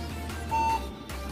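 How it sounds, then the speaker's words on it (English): A single short electronic beep from a PC motherboard powered on with no RAM installed sounds once against a low hum of computer fans. "it beeps because that's the motherboard. And it cannot turn on without RAM"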